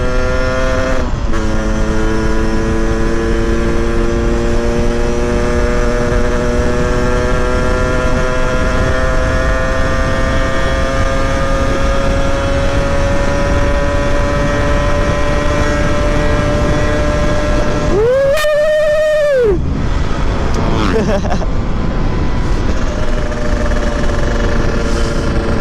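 A Yamaha RX King motorcycle at full throttle on a road in Banda Aceh, with a loud, sustained two-stroke engine whine climbing steadily in pitch. The engine briefly drops during a gear change and heavy wind roar runs throughout.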